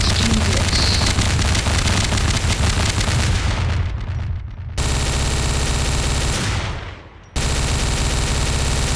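Sustained automatic gunfire in the Garry's Mod game: a loud, dense stream of rapid shots that breaks off twice with brief trailing echoes, then resumes each time.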